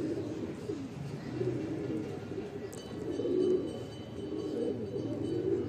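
Bajra pigeons released at a loft in Bhopal give soft, low cooing that rises and falls in quiet murmuring waves, faint and unaccompanied by speech.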